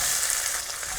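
Mustard seeds and fresh curry leaves frying in hot oil for a prawn curry, a brief, dense, even sizzle heard close up with no voices.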